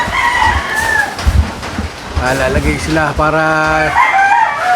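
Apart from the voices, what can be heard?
rooster crowing, game fowl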